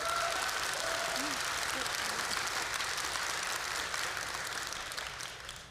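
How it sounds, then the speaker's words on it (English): A live podcast audience at a security conference claps together as a show-of-hands vote, a broad sustained roar of applause lasting the whole stretch and tapering slightly at the close. "By applause, how many people think that's worse?"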